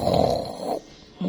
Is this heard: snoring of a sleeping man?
yes